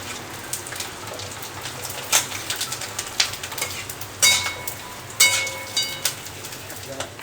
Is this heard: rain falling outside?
yes